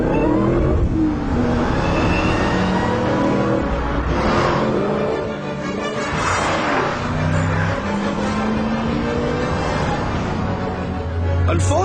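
Supercharged Vauxhall Monaro VXR with a 500 bhp LS2 V8 accelerating hard in first gear from inside the car, a loud continuous engine roar with rising tones and a gear change or two, heard close and alone.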